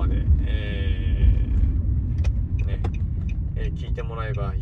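Low, rumbling interior road noise from a car being driven, steady and close, with someone talking over it throughout.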